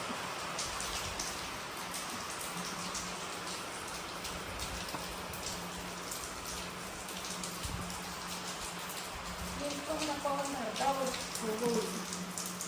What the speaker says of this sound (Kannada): ತುಂಬ ಮಳೆ ಬರ್ತಿದೆ, ಮಳೆ ಸಿಕ್ಕಾಕೊಂಡಿದ್ವಿ